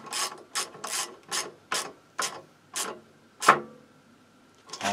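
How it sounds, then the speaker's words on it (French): Ratchet socket wrench tightening a part during an engine reassembly, giving about eight close, rasping clicking strokes in an uneven rhythm with short pauses between them. "on va le serrer avec la bonne douille, il paraît que c'est mieux"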